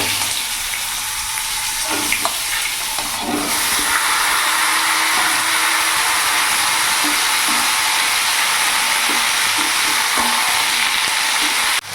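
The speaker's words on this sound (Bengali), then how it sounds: "ফোড়নটা ভাজা হয়ে গেছে এবার কেটে রাখা লাউগুলো আমি দিয়ে দেবো" Chopped bottle gourd hits hot oil tempered with dried red chilli and a bay leaf, giving a loud, steady hiss and sizzle, with a few stirring knocks early on before the frying settles into an even roar.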